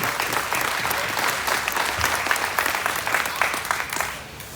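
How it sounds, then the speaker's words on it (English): Audience applause at a junior crossbred gilt livestock show, steady dense clapping from a crowd that carries on for several seconds before tapering off at the end, with faint voices mixed in. "give him a big round of applause"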